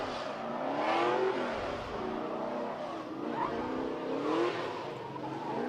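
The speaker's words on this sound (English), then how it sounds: "He's out there in that bright yellow Nissan 350. He's rocking an LS6 power plant" A bright yellow Nissan 350 drift car with an LS6 V8 at LS Fest East screams past at a distance, its engine note sweeping up and down through repeated revs with hints of tire squeal, heard alone without talk.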